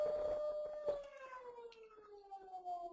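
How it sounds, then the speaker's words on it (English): A fire engine siren wails from a firehouse across the street, a sustained falling tone that slowly winds down, heard faintly from a distance indoors. "let me just let the siren die down"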